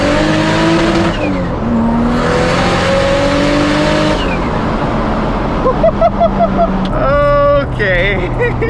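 A boosted, tuned Toyota Supra on slick tires accelerates hard, its engine roaring loud and close through rising gear pulls, with sharp pops and a whining surge near the end.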